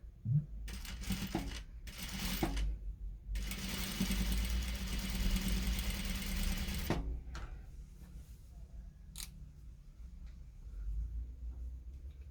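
A sewing machine stitches a bias strip onto a sleeveless cotton-knit undershirt, running in a few short bursts and then one long steady run of several seconds with a low motor hum and fast needle chatter, close up and without talk.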